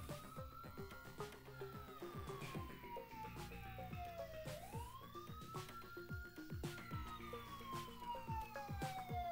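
A wailing police siren in a video game sweeps up and down continuously over a busy, rhythmic game soundtrack, loud and prominent throughout with no clear speech.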